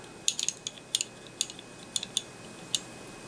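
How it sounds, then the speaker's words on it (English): Ratchet buckle of a Kore Essentials tactical belt clicking, a run of sharp, close metallic clicks in an irregular rhythm, with no talk. "When you decide you want to hang your belt, ratchet like that"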